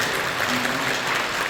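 Applause from a church congregation during a Korean Full Gospel Sunday worship service fills the space as a steady, dense wash of clapping, with a faint voice beneath it.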